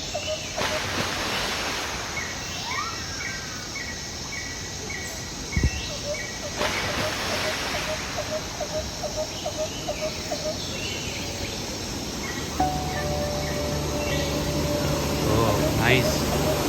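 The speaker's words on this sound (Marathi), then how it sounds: "वॉटरफॉलचा खूप छान असा आवाज येतोय" A waterfall in the hills of Sikkim gives off a steady, broad rushing roar, with birds calling faintly and people speaking over it now and then.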